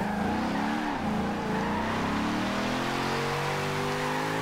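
A 500-horsepower V8 1990 Mazda Miata rally car in Forza Horizon 2 strains up a hill, its engine droning loud and steady with rising, wavering revs as the tires struggle for grip.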